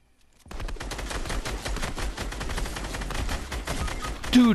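Steady rapid-fire gunshots from a player's weapon in a video game, starting abruptly after a brief silence and hammering evenly and loud up close, ending with a sharper burst.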